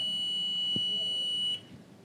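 Multimeter set to continuity mode emits a steady high-pitched tone while its probes touch a shorted LED in a DC continuity tester, holding for about a second and a half, then cutting off abruptly.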